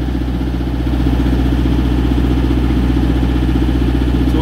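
An engine idles loudly and steadily nearby, a rough, even, rumbling throb with no change in speed throughout.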